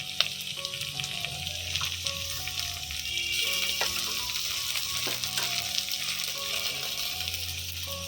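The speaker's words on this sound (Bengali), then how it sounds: "মশলা ভাজা হয়ে গেছে" Steady hissing sizzle of spice paste with ginger and green chilli frying in a pan, with occasional scraping clinks of stirring; no talking.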